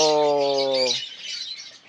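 Pet birds give one clear harmonic chirp or call lasting about a second, fairly loud and close, followed by softer high twittering that fades out, with no voices.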